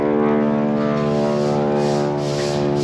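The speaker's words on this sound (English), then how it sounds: "Airplanes overhead." Propeller airplanes passing overhead outdoors, a loud steady droning hum with strong tonal harmonics holding evenly throughout, no voices.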